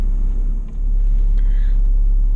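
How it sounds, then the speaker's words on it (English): A truck engine idles with a steady low rumble, close and loud, holding evenly through the clip with a slight dip partway and no talk. "I'm gonna turn the truck off so that you don't hear it rumble"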